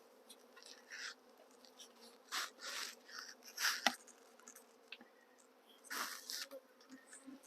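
Honeybees buzz around a beekeeper during a swarm capture, their droning coming in uneven waves that swell and fade over a quiet background, with a sharp knock midway and no talk.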